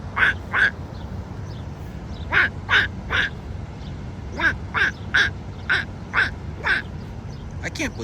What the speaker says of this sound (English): Look at them ducks.